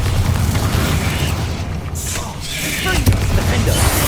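Bombarda explosion spell in Hogwarts Legacy combat, deep booming blasts and bursts rolling under constant loud battle noise, one sharper detonation near the end, with voices in the mix.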